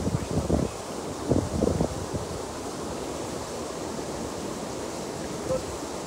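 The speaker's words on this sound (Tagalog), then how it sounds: "Lakas yung hangin na saka yung tubig tol." Strong wind blows over a river, a steady, fairly faint whoosh with rustling, joined by a few brief low bumps early on.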